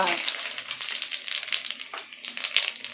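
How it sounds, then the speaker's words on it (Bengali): Whole spices tempering in very hot oil for a Bengali cabbage and fish-head ghonto, a close, steady crackling sizzle with sharp pops and spits throughout. "এই ফোড়নটা ভাজা হচ্ছে"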